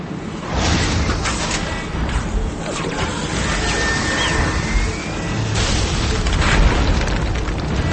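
Military base blowing up after a quantum missile strike in the game Contra Returns, a long, loud, dense roar of explosion with rumbling booms and whooshes sustained throughout.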